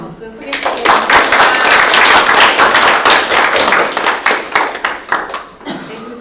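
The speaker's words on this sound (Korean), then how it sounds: "오늘 귀한 강의 해주신 교수님 위해서 다시 한번 박수 크게 주세요." Audience applause for a professor at the close of a seminar lecture, dense steady clapping that swells and then thins out into scattered claps near the end.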